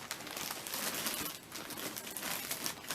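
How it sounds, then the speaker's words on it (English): A clear plastic bag crinkles and rustles as it is handled up close, a steady, dense crackling texture running throughout with no talk. "And that's in a clear plastic bag."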